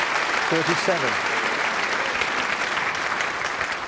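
A snooker audience and the opponent applaud a tough pot at the 2019 Champion of Champions semi-final, steady close clapping throughout, with a commentator's brief speech over the start.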